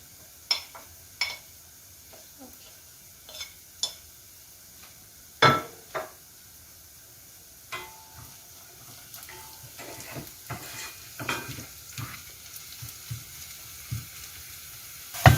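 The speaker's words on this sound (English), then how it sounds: "Now I put the potatoes in the pan." Potatoes frying in a pan for Iranian gheimeh stew, a soft steady sizzle with scattered sharp clicks and scraping knocks of stirring, gradually growing busier and ending with a louder clatter.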